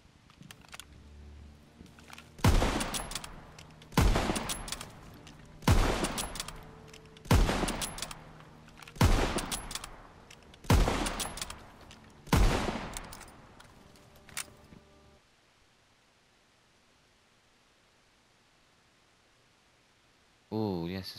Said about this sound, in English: I just got carried away with that shotgun.